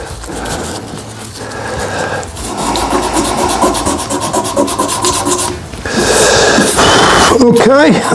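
Abrasive paper rubs against a spinning wood burl on a lathe, a continuous gritty sanding hiss that shifts in intensity, with someone talking over it.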